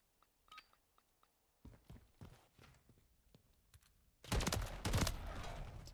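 Video game gunfire arrives as a sequence of sharp, separated shots that builds into a dense, loud burst of rapid fire near the end, heard up close with no talking.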